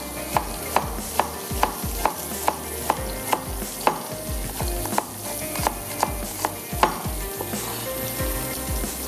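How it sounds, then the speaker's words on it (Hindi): Lemongrass sautéing in a pan for Thai mango fried rice: a steady sizzle runs under regular spoon or spatula taps on the pan, about two per second, close and moderately loud, with no talking. "हल्की सी लेमन ग्रास को सौते करना है।"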